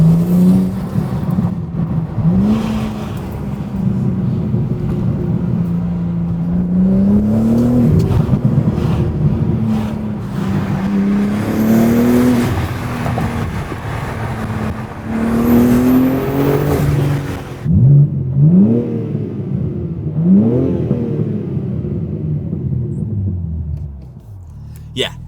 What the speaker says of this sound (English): You definitely hear the intake a lot